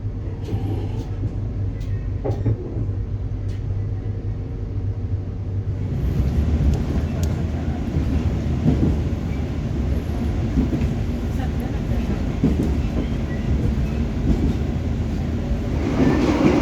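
The Argo Bromo Anggrek passenger train rolling steadily along the track from Semarang Tawang toward Surabaya Pasar Turi, a continuous rumble and rattle heard from inside, growing louder partway through.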